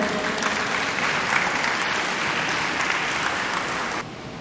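A graduation ceremony audience claps for the town mayor in a sustained, even burst of many hands that stays loud, then drops off abruptly near the end.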